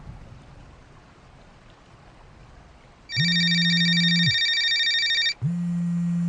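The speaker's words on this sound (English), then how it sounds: "The phone rang, pulling me from my thoughts." A telephone rings loudly in two long electronic trills separated by a brief pause, over a soft background hiss.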